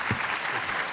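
An audience applauds after a lecture at the University of Tokyo, a dense, steady wash of many hands clapping together with no voices over it.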